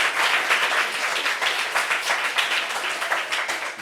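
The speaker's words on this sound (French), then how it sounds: "Ça s'applaudit." A crowd claps in a dense, continuous burst of applause, fairly close and steady throughout.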